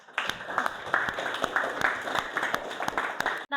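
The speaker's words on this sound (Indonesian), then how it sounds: "tepuk tangan untuk kelompoknya, Cherry" A class applauding a student group during a civics lesson, distinct claps from a handful of people in a fairly regular patter, close and moderately loud, stopping abruptly at the end.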